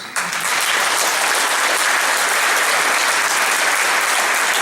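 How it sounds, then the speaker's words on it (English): Applause from a convention panel audience at DragonCon 2013 for actor Lee Majors, a loud, dense, sustained wash of many hands clapping that rises at once and holds steady throughout. "And give him a round of applause for that, guys."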